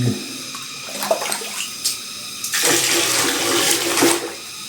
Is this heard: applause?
no